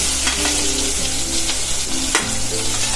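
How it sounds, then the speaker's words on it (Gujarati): Asafoetida and onion dropped into hot oil for Chinese-style rice, giving a loud, continuous close sizzle and crackle with occasional stirring scrapes. "આપણું તેલ આવી ગયું છે તો આપણે એમાં ખાલી હિંગ જ નાખવાની છે"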